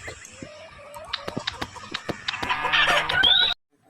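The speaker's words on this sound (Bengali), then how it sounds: "চলো চলো, আমরা মুরগি ধরে নিই।" A chicken clucks repeatedly in quick bursts, growing busier and louder toward the end before everything stops suddenly.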